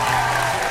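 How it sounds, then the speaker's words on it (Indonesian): A brief, loud burst of audience clapping on a talk-show set, dense and continuous for under a second. "Boleh tepuk tangan untuk beliau."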